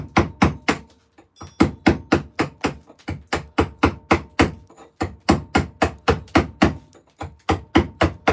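A 10mm wood-carving chisel is struck over and over with a steady, even rhythm of about three close, sharp knocks per second. No one speaks.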